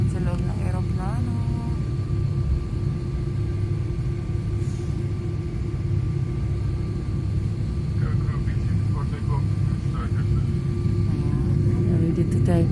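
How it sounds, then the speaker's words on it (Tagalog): Passenger jet taking off from Ben Gurion Airport in Tel Aviv, heard from inside the cabin as a steady, loud engine roar and rumble that holds throughout, with a voice speaking faintly over it. "Ready to take off."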